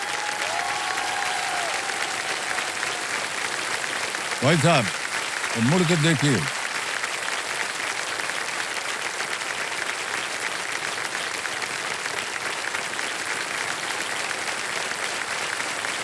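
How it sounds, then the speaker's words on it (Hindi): Steady studio audience applause on the Kaun Banega Crorepati game show, a continuous even wash of clapping that runs throughout, with the host briefly speaking over it. "अरे तालियां बजाते रहिए इनके लिए"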